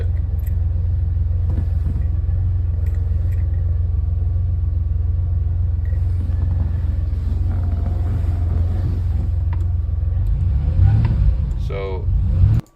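A DeLorean car engine cold-starting, heard as a steady low rumble throughout with a rising rev near the end; speech is also present.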